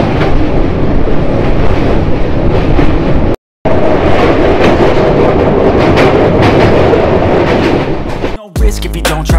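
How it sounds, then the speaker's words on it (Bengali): The East Coast Express runs on rails from Visakhapatnam toward Shalimar through Odisha, a loud continuous rumble with rhythmic clatter, briefly cut out before a burst of music at the end. "আমাদের ট্রেন এখন ক্রমশ উড়িষ্যা অতিক্রম করে বাংলার মুখে।"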